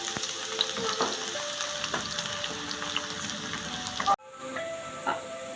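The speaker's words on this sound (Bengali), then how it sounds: "এখন আমি পেঁয়াজগুলো ঢেলে দিচ্ছি বেরেস্তা করার জন্য" Onions are poured into hot oil in a pan to fry until crisp, giving a steady, close, loud sizzle with occasional stirring and a brief break near the end.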